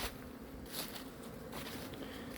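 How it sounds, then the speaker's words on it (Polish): A steady, faint buzzing of honeybees in flight on a mild November day, continuous and fairly distant, with no voices. "pszczoły po prostu latają"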